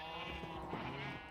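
Farm animals bleating in their pens in Minecraft, a short close burst of layered sheep- or goat-like bleats that fades at the end.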